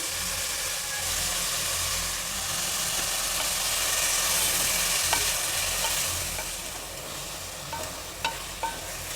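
Steady broadband sizzle of ground masala and spices frying in hot tempering oil, close and continuous, with a few sharp crackles and pops near the end.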